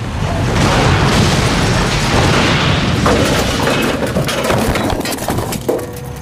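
A loud, layered explosion from The Incredible Hulk: Ultimate Destruction video game, built from fire, shattering glass and metal, with a thick roaring burst that rumbles on, breaks into crackling debris and splinters, and tails off.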